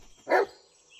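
A single short, sharp dog bark sounds once at mid distance in the Blair Witch video game, standing alone against a quiet forest ambience.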